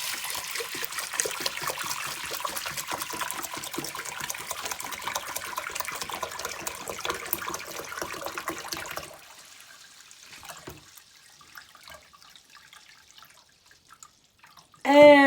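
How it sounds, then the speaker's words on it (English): Water pours in a steady, splashing stream into a soup pot for Greek lentil soup for about nine seconds, then stops, leaving quiet kitchen handling noises and a short clatter at the end. "I'm just going to pour the water."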